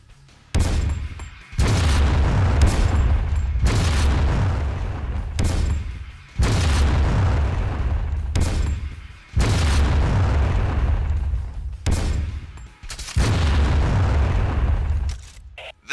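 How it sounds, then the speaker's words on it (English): Repeated loud booming blasts from a grenade launcher in the video game Tribes Aerial Assault, heavy low-end explosions in long bursts separated by brief gaps, with no talking. "Go ahead and lob a few grenades to get a feel for the weapon and its timing peculiarities."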